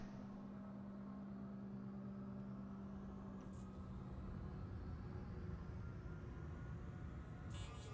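A Consolidated Outland Nomad spaceship in the game Star Citizen performs a flip and burn, heard as a steady, low engine drone that hums continuously at low volume with faint brief whooshes.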